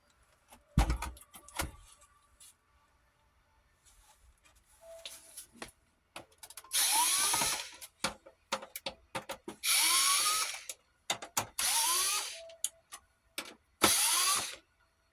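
Screws are taken out of a Sony PS4 console during disassembly, with sharp clicks and taps and several short bursts of a whirring screwdriver, close and fairly quiet.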